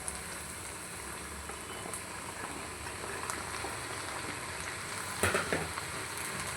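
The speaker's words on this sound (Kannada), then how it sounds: "ಇದಕ್ಕೆ ನಾನು ಇವಾಗ ಚಪ್ಪರದ ಅವರೆಕಾಯಿನ ಆ್ಯಡ್ ಮಾಡ್ಕೊತಿದ್ದೀನಿ." Broad beans tossed into a pan of softened tomato and stir-fried, giving a steady close sizzle and crackle throughout with a brief burst of louder scraping and clatter near the end, no voices.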